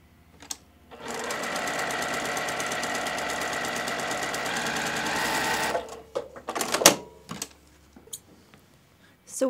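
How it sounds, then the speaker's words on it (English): A sewing machine joins fabric strips for quilt binding at a 2.0 stitch length, running in one steady close whirring burst of about five seconds, followed by scattered clicks and handling noises. "So now we're just going to sew directly on our drawn line."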